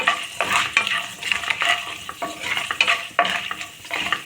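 Urad dal, chana dal and two pieces of cinnamon frying in hot oil for cabbage rice, with a steady sizzle and repeated close metal scrapes and clinks of a spoon stirring the pan; no one speaks.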